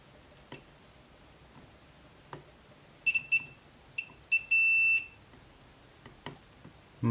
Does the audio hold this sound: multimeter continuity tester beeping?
yes